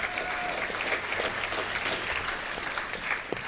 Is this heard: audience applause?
yes